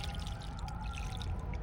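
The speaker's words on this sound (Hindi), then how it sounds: "अब इसमें हम पानी भर रहे हैं" Water pours steadily into a garden planting container filled with nutrient-enriched soil before sowing spinach seeds, a continuous close splashing stream with no talking.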